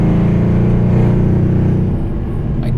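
A tuned 2012 Mercedes CLS63 AMG engine revs with a deep, steady rumble, loud and close, holding a throaty roar throughout.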